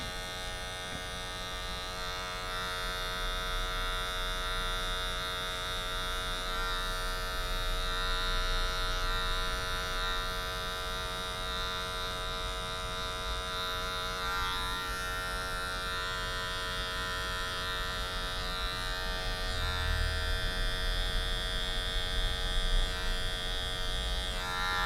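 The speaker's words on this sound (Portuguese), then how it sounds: "Agora eu venho com o nosso pente, nossa máquina zero alta" Electric hair clippers buzz steadily and closely while cutting a fade. The tone holds even throughout, with small shifts as the blade moves through hair.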